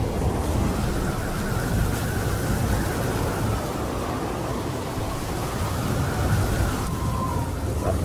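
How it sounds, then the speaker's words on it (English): Sandstorm sweeping in over open ground, a dense steady roar of wind-driven noise with low rumbling, loud and unbroken throughout with no voices. "The sandstorm sweeps in, clouding the vision of the sauropods."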